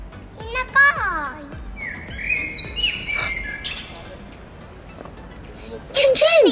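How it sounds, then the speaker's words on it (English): A wild bird sings overhead outdoors, bright chirps and whistled trills at moderate distance, with children talking and chattering between the calls. "Can you hear the bird?"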